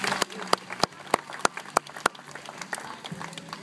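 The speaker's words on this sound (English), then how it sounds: "How about a round of applause for my volunteer?" An audience at a Taronga Zoo sea lion show applauds a volunteer, with sparse, fairly regular individual claps standing out over a soft crowd murmur and fading after a few seconds.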